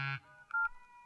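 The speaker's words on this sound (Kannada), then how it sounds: "ಮೊಬೈಲ್ ರಿಂಗ್ ಆಗ್ತಾ ಇದೆ ನೋಡಿ" A mobile phone rings with short electronic tones, a brief burst followed by a couple of clear beeps and a lingering tone, quiet and heard alone without voices.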